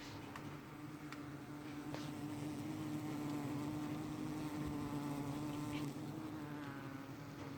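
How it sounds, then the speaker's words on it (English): Honeybees from two skids of hives buzz steadily inside their closed boxes, a dense continuous drone at close range with no talking. "I've just moved these 2 skids of bees in, and they're a buzzing away in there."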